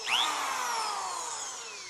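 A power drill whines at high pitch while working on parts of an old German piano, its tone sliding downward as it bogs down under load and overheats, loud and close.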